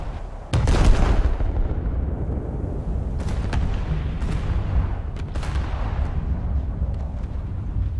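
A British battleship in a naval combat game fires its main guns with a ranging shell: a loud, heavy boom at the start rolls into a long rumbling tail, with a few more sharp distant blasts popping through the lingering roar.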